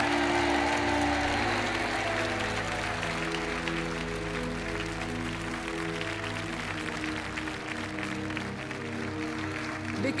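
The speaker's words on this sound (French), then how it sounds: "Sous les applaudissements." Studio audience applause on a French TV game show: steady, dense clapping carries on without a break over sustained musical tones underneath.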